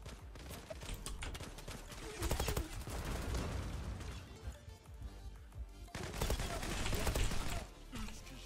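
Player's gun in the shooter game Zula fires in dense, rapid bursts close up, with brief lulls between volleys and a faint voice now and then underneath.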